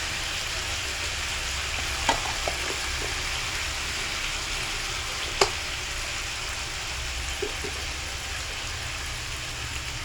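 Prawns and vegetables with salt and ginger paste frying in a pan, a continuous close sizzle with a few sharp clinks and scrapes of a spoon against the pan.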